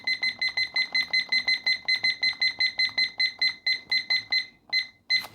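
A digital kitchen-style timer sounds a rapid run of sharp, evenly spaced high beeps, about four per second, then a few slower separate beeps as it is set and started, loud and close with no talk.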